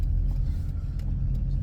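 A car being driven, giving a steady low engine and road rumble that stays constant and close throughout, with no voices.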